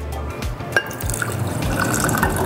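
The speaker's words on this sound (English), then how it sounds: "We're gonna put half cup of water." Half a cup of water pours into a container while sugar water is made for water kefir, a close splashing trickle with a few drips at the start that turns into a steady fill.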